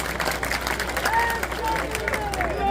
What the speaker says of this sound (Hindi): सभी से मैं निवेदन करूंगा कि तालियां बजा करके उनका हृदय से सम्मान करने का काम करें।